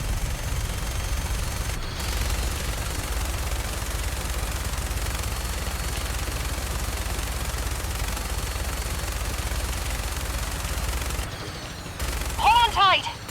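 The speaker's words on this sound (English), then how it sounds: "Fire up the minigun." Minigun fire in the Fallout 4 video game, a long sustained rattling barrage of rapid shots with a heavy low rumble, cutting off briefly near the end amid other game sounds; a voice speaks at points.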